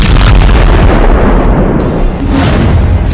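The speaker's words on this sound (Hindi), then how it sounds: "तभी एक बम फटता है।" A bomb going off during a street gunfight in Tulkarm in the West Bank, heard as a loud, close, heavy blast whose rumble fills the whole moment, with a sharper crack near the end.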